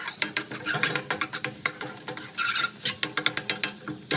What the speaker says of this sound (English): So the onions are cooking away in the oil.